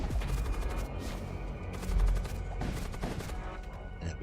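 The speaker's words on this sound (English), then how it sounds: "We target their shields to make sure that we can suppress the heart with our ship's cannons." Ship's cannons fire in a dense, continuous barrage during space combat in the video game There is only Void War, a steady roar of overlapping blasts with a heavier thump near the two-second mark.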